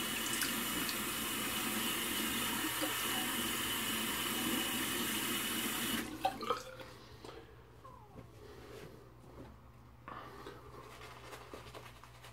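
Tap water runs steadily close by into a sink for about six seconds while a shaving sponge and face are wetted, then stops, leaving faint handling sounds and drips.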